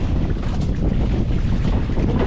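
Steady, loud wind blustering over the open sea aboard a small fishing boat, with continuous rushing buffeting against the microphone and no voices.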